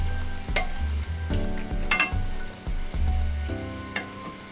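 Vegetables sautéing together in a pan, a constant near sizzle broken by regular stirring and scraping strokes every second or so.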